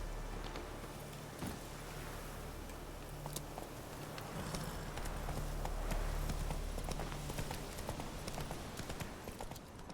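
A horse gallops in The Witcher 3 video game, its hooves clip-clopping in a fast, steady rhythm over a low ambient rumble, with no talking.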